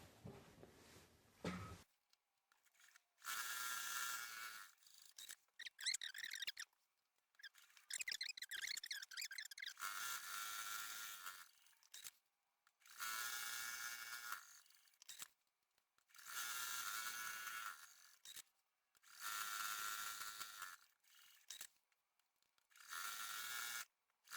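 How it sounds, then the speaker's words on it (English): A home sewing machine quilting stitch-in-the-ditch lines, running in steady bursts of rapid whirring stitching separated by short pauses, close and fairly loud with no talking. "I'm going to follow those stitch in a ditch from the middle to the right, and then go from the middle to the left"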